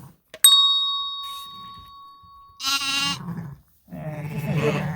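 Newborn lambs, still soaking wet, bleat in two separate cries. A single bright ringing tone sounds earlier in the clip.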